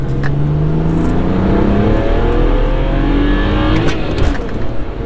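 A modified BMW 335i, missing only downpipes, accelerates hard through third gear, its engine note rising in pitch as revs climb steadily and loudly, up close for about five seconds with no talking.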